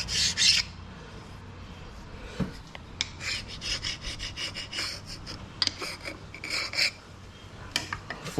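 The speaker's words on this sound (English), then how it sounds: "Scrape it up and around." Scraping on a 1961 Cadillac under repair, a rough rasping rub repeated in irregular strokes, close and fairly quiet, with a few sharper scratchy bursts.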